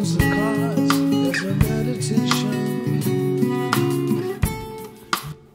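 Clean guitar playing a riff with sixth chords, changed fingering for smoother transitions, sustained chords and picked notes ringing clearly and alone, with a few sharp plucked attacks near the end.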